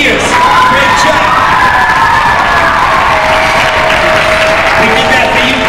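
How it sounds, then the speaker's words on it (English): Loud, continuous applause and cheering from a school audience at an Earth Day assembly, with children shouting and whooping throughout, sustained evenly across the whole stretch. "how about a nice round of applause for my volunteers?"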